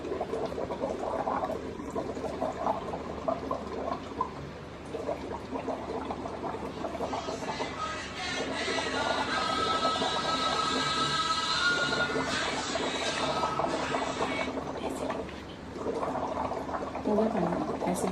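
Air blown through pipes into two glasses of water, one filled from a water ioniser, giving a steady gurgling, bubbling wash over several seconds, with someone talking at the start and end.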